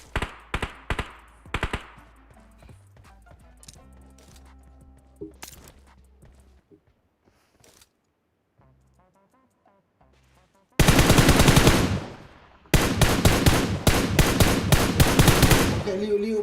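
Gunfire from a house in the video game PUBG: scattered shots early on, then loud, dense bursts of rapid automatic fire near the end.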